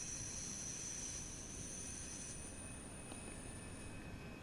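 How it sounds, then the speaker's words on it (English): A Class 314 electric train pulls into a station near Glasgow in Train Sim World 5, with a low steady rumble and a thin high whine from the wheels and motors, and no voices. "380 pulling in."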